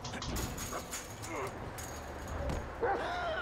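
Chop, a dog in the video game GTA 5, barking and yipping amid in-game noise, with a few short barks and whines near the end as a voice talks over the game.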